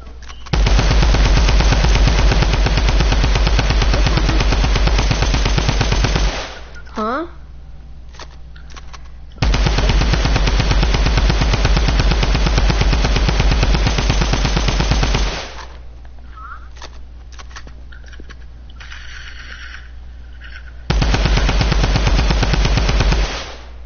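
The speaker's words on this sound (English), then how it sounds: "I was just shooting." Rapid automatic gunfire from a video game, loud continuous bursts of several seconds each separated by short quieter gaps, three long volleys in all with faint game sounds between them.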